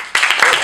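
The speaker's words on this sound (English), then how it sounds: "just by a round of applause, clap if this is your first time seeing us here at RockNJava" Audience applause at an improv comedy show by the Not Burnt Out, Just Unscrewed troupe at RockNJava, a brief burst of dense clapping that starts suddenly and stays steady, fairly close and loud.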